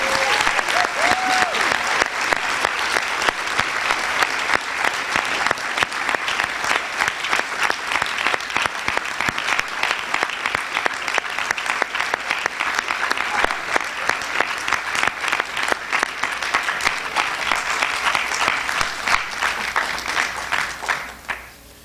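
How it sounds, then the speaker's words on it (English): Sustained applause from a school board meeting audience honoring graduating high school seniors, dense steady clapping for about twenty seconds with no break, loud and close. "Round of applause for our current seniors"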